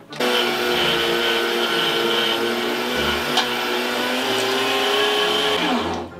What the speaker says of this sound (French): je vais hacher la viande avec la grille gros trou